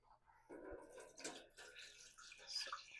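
Four cups of tap water running into a dye pan prepared for superwash merino and nylon sock yarn, a quiet, steady splashing rush with no talk.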